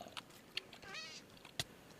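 A cat meows in the video game Project Ozone 3: one short, wavering meow in the middle, set among a few sharp clicks and soft game noise, with no talking.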